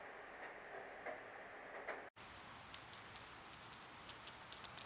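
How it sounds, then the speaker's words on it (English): Steady rain in the video game Persona 4 Golden, an even hiss of falling drops that cuts out for a moment and resumes with scattered brighter drip ticks, no voices. "The rain doesn't seem to be letting up this morning."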